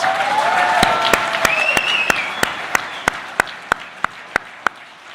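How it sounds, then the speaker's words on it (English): A crowd applauds loudly at a community awards ceremony, with a few cheers early on and one person clapping in a slow, steady rhythm throughout. "Let us all give a round of applause for tonight's Unsung Heroes"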